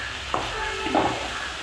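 Sliced onions fry in a pan in a Kerala home kitchen while being stirred for a leafy greens thoran, with a steady soft sizzle, a couple of light scraping stirs and a brief utensil clink.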